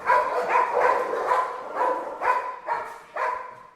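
Several dogs bark in a quick series of sharp, mid-pitched woofs at a working-dog training facility with puppies, chocolate labs and German shepherds, fairly close and clear with no talk over them.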